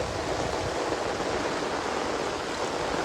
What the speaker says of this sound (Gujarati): અહીંયા જુઓ ઓપટ પાણી જાય છે